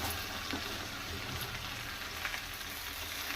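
Sliced okra frying in a little oil in a pan, a steady crackling sizzle like light rain, even and continuous, close by and fairly quiet.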